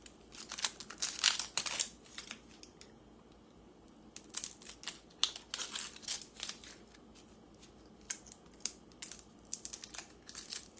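Dry onion skin being peeled for tomato and squash soup gives quiet, irregular crackling and crinkling snaps in short clusters with pauses between.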